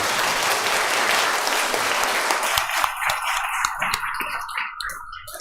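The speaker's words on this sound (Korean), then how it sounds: "큰 박수 한번 해주시기 바랍니다" Congregation applauding a guest pastor at a church centennial Sunday service, a dense sustained clapping that stays full for about two seconds before thinning into scattered claps as it fades.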